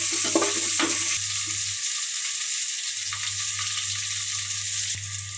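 Green chillies, mustard seeds and onion frying in a pan for uggani, a steady close sizzle with a few scraping stirs near the start, no talking.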